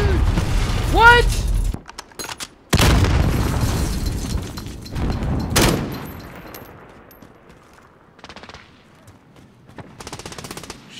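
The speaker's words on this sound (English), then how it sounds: "Shot an RPG in there." An RPG launched in Call of Duty: Modern Warfare online multiplayer: loud blasts and bursts of gunfire break up the scene, with a sharp boom followed by scattered distant shots and a player voice talking between them.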